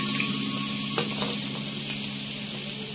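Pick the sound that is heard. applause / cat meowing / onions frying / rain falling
onions frying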